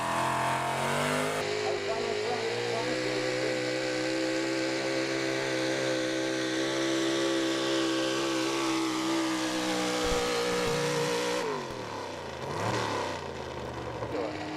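Carl Barnhart's Midlife Crisis pulling truck from Needmore, Pennsylvania roars down the track at a truck pull, its engine holding a loud, steady high-revving drone before dropping off as the run ends, with a crowd murmur beneath.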